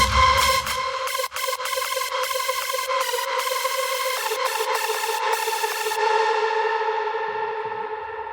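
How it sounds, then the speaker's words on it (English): A sustained synth lead with chopped, gated bursts over a long wash of reverb that rings on and slowly decays after the notes stop. "when the lead synth is not playing, you want to have this big kind of reverb effect"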